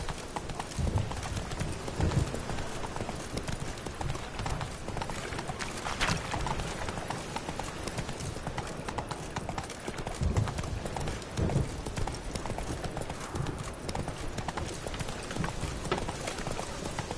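A horse in The Witcher video game gallops in a rapid, continuous clip-clop of hooves at moderate loudness, with brief louder thuds scattered through.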